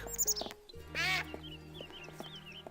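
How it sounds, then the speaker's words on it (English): A cartoonish duck quacks once in a LucasArts adventure game, a short bright honking call standing out over steady game music and ambient tones. "Oh, it's the sound of a duck."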